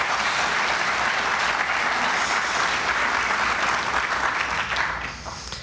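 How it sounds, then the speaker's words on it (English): Sustained applause from an audience at a chamber of commerce annual membership meeting, a steady dense clatter of many hands clapping throughout and tapering off near the end. "Let's give them a round of applause."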